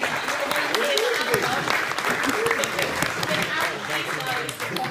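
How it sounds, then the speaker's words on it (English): Convention audience applauding a young staffer: steady, moderately loud clapping across the whole stretch, with a voice speaking over it. "Can we just have a round of applause for this young man?"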